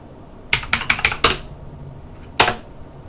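Keys clacking on an Acorn BBC Micro keyboard: a quick run of about six close, loud presses, a pause, then one more firm keystroke, with no voices.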